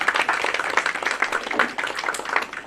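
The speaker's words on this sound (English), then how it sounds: "Let's give him a round of applause." An audience at a women's rights organization festival gives a round of applause: dense, steady clapping from many hands, fairly close and sustained for a few seconds with no break.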